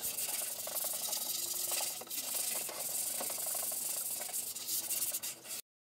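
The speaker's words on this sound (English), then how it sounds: "it's always great to sand down those corners to help avoid splinters" Wooden corners of a Christmas tree and train platform are sanded by hand, a close continuous scratchy rubbing in quick back-and-forth strokes with no talking.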